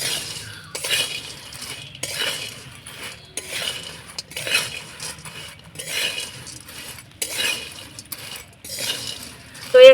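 Spoon stirring mango pickle spices with amchur and chaat masala in a metal pan, repeated clinking and scraping strokes in a steady rhythm, close and fairly loud, without talk.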